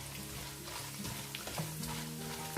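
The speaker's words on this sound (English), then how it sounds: "So fry the coconut nicely" Grated coconut fries in hot coconut oil for a Kerala-style beef fry, a dense continuous crackling sizzle close by with soft stirring bumps and no talk.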